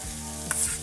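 Sizzling and stirring in a pan as alcohol cooks off from rice with pork ribs, a steady close frying hiss with a brief utensil scrape partway through.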